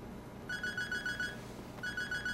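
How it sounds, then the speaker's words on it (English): A phone rings in the video game Sleeping Dogs, two bursts of a quiet electronic warbling ringtone separated by a short pause, playing alone. "And now the phone's ringing."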